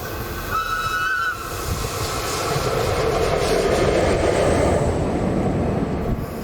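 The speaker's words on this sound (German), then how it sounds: "Jetzt muss er nur noch auf die Pfeife stehen." A Swiss locomotive whistle sounds briefly near the start on the Gotthard north ramp, followed by a loud, steady rumble and hiss of a train close by.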